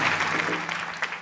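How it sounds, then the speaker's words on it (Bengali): Studio audience applause on a Bangladeshi TV comedy reality show, a dense, loud, sustained clapping from a large crowd throughout the short stretch. "সবাই জোরে একটা করতালি হোক"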